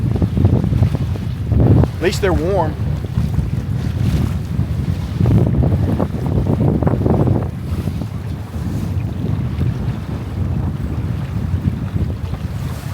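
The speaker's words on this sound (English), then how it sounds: "Here comes the bigger gusts" Strong wind gusts buffet a Catalina 22 sailboat on the water, a steady loud rumble of wind noise with surging gusts and wave wash, while a person speaks briefly and a short whistle-like tone rises near the start.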